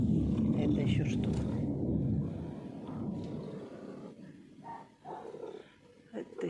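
A domestic cat purring loudly close to the listener, a deep, throaty rumble that is strongest at first and then softens, while someone talks over it.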